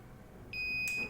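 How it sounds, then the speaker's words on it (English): A single sharp high-pitched electronic beep from a smoke detector triggered by flame sounds abruptly after a quiet moment, close and clear. "if I expose it with flame, then it will just start beeping"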